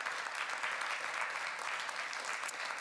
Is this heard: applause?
yes